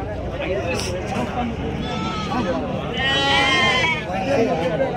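Sheep and rams bleat repeatedly at a busy weekly livestock market, several loud close calls rising over a constant murmur of people talking nearby.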